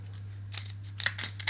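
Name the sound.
scissors cutting lobster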